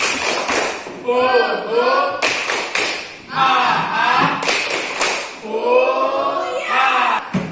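A classroom of children performs a rhythmic spirit clap in bursts of quick patterned claps, mixed with their chanting voices between and over the claps.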